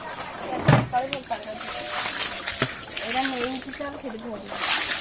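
Vegetables being rinsed in water with splashing, sloshing and trickling sounds, close by, while people talk over and between the splashes.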